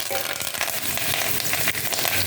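Steady, dense sizzling and crackling of mustard seeds and asafoetida frying in hot oil, loud and close, continuing without pause.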